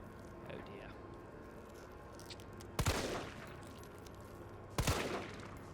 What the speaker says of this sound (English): the zombie's too busy having a feast to be paying attention to, you know, gunshots